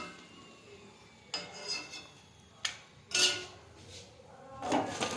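Plates and cutlery clink while freshly fried chicken pakoras are served, a few separate clattering knocks and scrapes against quiet background, close and moderately loud.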